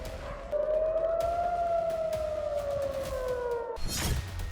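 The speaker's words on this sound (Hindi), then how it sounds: "इजराइल में शुक्रवार से अब तक कई बार एयर अलर्ट का सायरन बज चुका है।" An air raid alert siren in Israel wails as one long, steady tone that slowly rises and falls over several seconds before stopping, followed by a brief burst of rough noise, with no voices.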